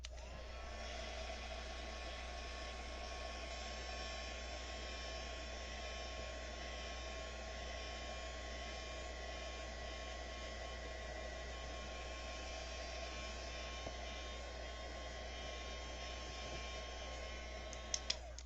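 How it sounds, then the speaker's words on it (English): A crafting heat tool held on embossed cardstock to dry it, a steady, close whirring blow with a whine that lasts the whole stretch without a break and stops near the end. "I'm also going to use my heat tool though, so just bear with me a moment."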